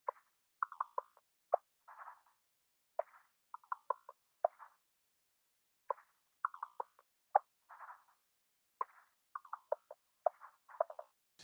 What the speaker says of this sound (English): Percussion loop.